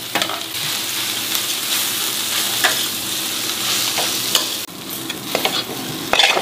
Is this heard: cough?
no